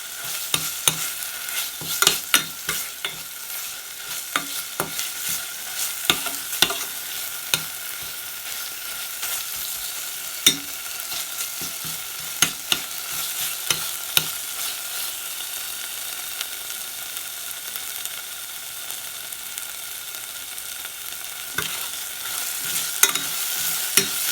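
Chili peppers are stir-fried in a hot pan: a continuous close sizzle broken by repeated scraping and tapping strokes of a spatula against the pan.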